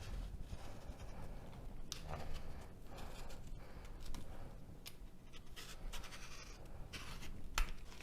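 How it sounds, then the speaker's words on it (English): A squash being peeled with a knife or peeler, giving repeated short scraping and rasping strokes at close range, steady and fairly quiet. "So I'm just going to cut the top off, and then we are going to peel it."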